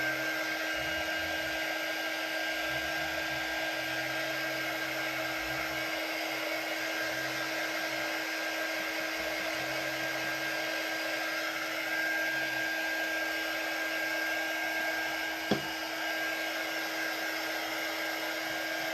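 A hair dryer blows steadily to dry painted craft cutouts for a sunflower project, a close, loud, unbroken whine with a single brief click near the end and no voices.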